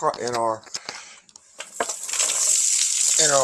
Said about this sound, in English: We're fixing to saute our vegetables in our